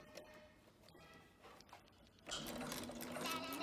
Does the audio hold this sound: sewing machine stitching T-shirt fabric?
yes